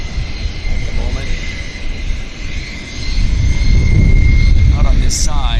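A jet airliner landing on the north side at Vancouver YVR airport gives a broad, distant roaring rumble that swells in the second half, with people talking over it.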